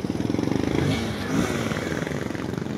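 A Bajaj Pulsar NS160 fuel-injected motorcycle, recently revived after a year in storage, idles and runs on a test drive with a steady pulsing, slightly rough engine note close by.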